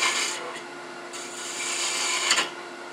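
A woodturning tool rounds over the face of a wooden Christmas tree ornament spinning on a lathe, producing a continuous, moderately quiet scraping rasp with small bursts, and no voices.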